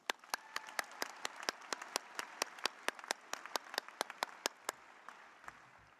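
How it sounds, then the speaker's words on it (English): Sparse, distinct handclaps from a small number of people ring out at a fall college commencement ceremony, sharp and regularly spaced against a quiet room and trailing off after about five seconds. "let's give ourselves another round of applause"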